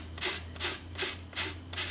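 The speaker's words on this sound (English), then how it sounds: "with just some very, very gentle sanding, these fibres come away" Gentle sanding along the binding rebate edge of a parlour guitar body makes five soft, evenly spaced rubbing strokes, close and quiet.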